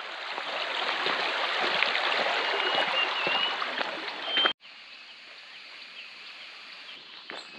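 A river in Muang Ngoi, Laos rushes and burbles steadily up close, then the sound cuts abruptly to a quieter, more distant stream flow with a faint high whine.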